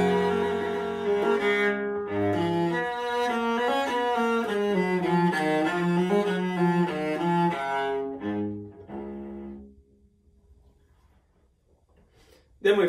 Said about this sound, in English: This is the Baroque cello.